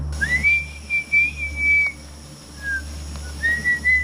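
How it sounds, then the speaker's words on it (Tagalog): A person whistles while climbing a tall coconut tree to collect tuba, a few thin, sustained tones with short pauses between, moderately clear over a low steady hum. "Pasipol-sipol pa nga siya"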